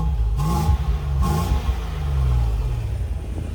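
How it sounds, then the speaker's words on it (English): A 2002 Land Rover Discovery V8 with an aftermarket exhaust idles with a steady, low burble, a couple of slight blips standing out early on a continuous rumble close to the vehicle. "It does have an aftermarket exhaust fitted, which gives it a very subtle burble."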